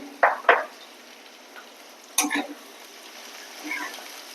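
Onions frying with salt and asafoetida in a pan, giving a soft background sizzle with a few brief stirring scrapes and clinks, fairly quiet and without talk.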